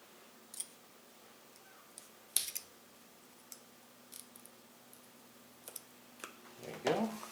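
Scissors snipping through a stiff Mylar sheet on a pinball playfield: a few sparse, sharp cuts and clicks, close but quiet over a steady low hum, with a louder rustle at the end.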